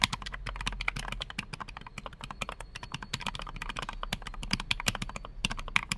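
Rapid typing on an Epomaker LUMA40 aluminum 40% low-profile mechanical keyboard with PC frosted keycaps: dense, fast clacky keystrokes in a continuous, uneven stream, close and fairly quiet, with no talk.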